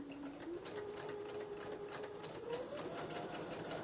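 Sewing machine stitching paper pages from an Edith Holden book: a faint, continuous rapid needle chatter with a rising and falling motor whine, steady throughout.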